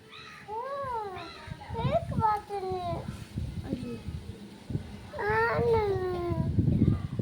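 A cat meows several times in drawn-out, wavering cries, mixed with children's chatter and playful voices nearby.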